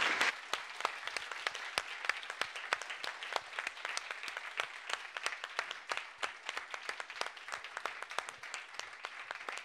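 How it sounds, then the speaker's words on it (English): An indoor audience at a battery technology talk gives the speakers a final round of applause, sustained dense clapping lasting about ten seconds at moderate, fairly even loudness with no voices over it. "So now I think it's time to give a final applause to all the speakers and thank them very much."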